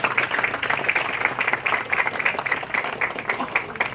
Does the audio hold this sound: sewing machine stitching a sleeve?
no